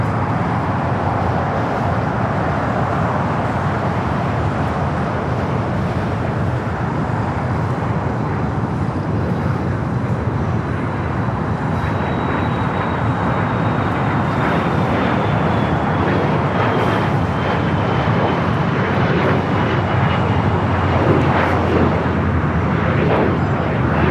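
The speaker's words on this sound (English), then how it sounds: "Let's get this Lufthansa as it heads into the gates and joins those other" Lufthansa airliner taxiing toward the gates at LAX, a steady broad engine roar with a faint whine gliding slowly downward, continuous and fairly loud with no voices.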